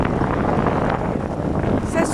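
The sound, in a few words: strong wind blowing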